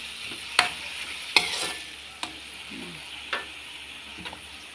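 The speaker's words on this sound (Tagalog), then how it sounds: "Ilalagay po natin yung chicken broth na ating pinakuluan para mas malasa. Ating pong halu-haluin." Boiled chicken broth stirred into a frying pan of cooking vegetables: a soft, even sizzle and bubbling with a few sharp utensil clicks against the pan, fairly quiet and without speech.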